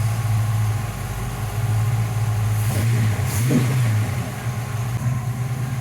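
Ford Mustang V8 fitted with a Street Demon 625 carburetor idling steadily after starting, a deep continuous rumble with a slight surge midway, close and loud with no talk.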